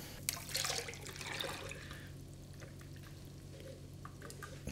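Ice cream base is poured into a Ninja Creami tub, a short splashy stream of liquid in the opening seconds that thins to faint trickles and drips over a low steady hum.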